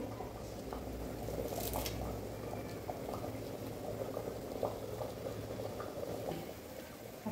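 A pot of liquid seasoned with salt and chopped coriander leaves boils steadily, with ghee about to be added. The quiet, continuous bubbling and gurgling carries on throughout.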